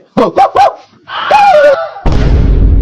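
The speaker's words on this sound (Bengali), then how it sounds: "বাড়িতে কুত্তা মুত্তা ঢুকলো নাকি? কুত্তার আওয়াজ আসছে" A dog indoors in a house gives three quick barks, then a drawn-out whining yelp, followed by a burst of steady rushing noise.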